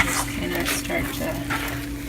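Pork and eggs stirred in a greasy frying pan, a steady close sizzle with utensil scraping for about two seconds, no talk.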